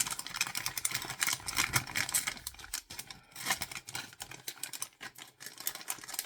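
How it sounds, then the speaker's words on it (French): Crinkly, irregular rustling of paper handled up close, with bursts of crackle and brief pauses, no voices. "Désolée pour le bruit du papier"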